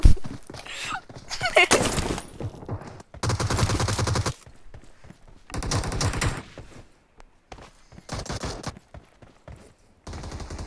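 Bursts of gunfire from the shooter game PUBG Mobile, several loud rapid volleys separated by short pauses, with a voice talking over parts of it.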